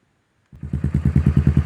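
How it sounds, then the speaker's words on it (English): A motorcycle fitted with a new aftermarket exhaust muffler fires up after silence and settles into a loud, close, lumpy idle with rapid even pulses. "I've got the new exhaust system on, the new muffler, not the full system. And it's really loud now."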